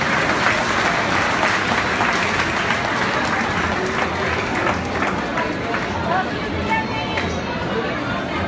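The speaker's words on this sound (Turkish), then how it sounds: "Şöyle güçlü alkışlarınızla mehteran takımını içeriye davet ediyoruz." Indoor audience at an iftar gathering clapping loudly to welcome a Turkish mehter band, dense sustained applause from a large crowd with a murmur of voices underneath, fading slightly toward the end.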